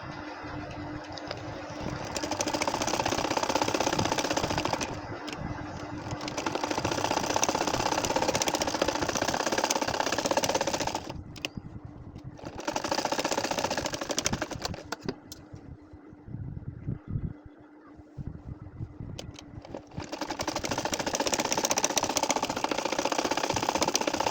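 Sewing machine stitching straight lines on a nakshi kantha quilt, a steady loud mechanical whirr running in long stretches with brief pauses between them, close by and with no talk.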